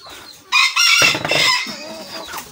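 Polish cap chickens cluck loudly and close by in a poultry yard, a burst of rising, squawking calls followed by softer, trailing clucks over about two seconds.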